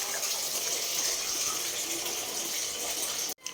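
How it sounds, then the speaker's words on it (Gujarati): Water gushes steadily from a tap into a vessel, a close, continuous splashing rush that cuts off abruptly near the end. "નળેથી પાણી ભરીને ગરમ થવા મૂકી દીધું છે"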